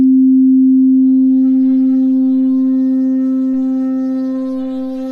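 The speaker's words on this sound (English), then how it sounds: "now we're modulating a sine wave based on that signal, which should give us a slightly different tonal characteristic" A Serum synthesizer sustains a single steady sine-wave tone modulated by a noise sample, with faint upper harmonics shimmering above and the level fading slowly over five seconds.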